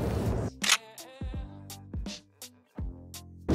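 Shutter of a Sony ZV-E1 mirrorless camera firing a handful of separate shots in quick succession, each a crisp close mechanical click, with a few faint handling noises in between.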